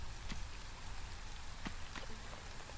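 Drizzling rain falls in a survival city-builder game set amid an endless apocalyptic storm and flood, a soft steady hiss with faint scattered drop ticks, quiet and continuous throughout.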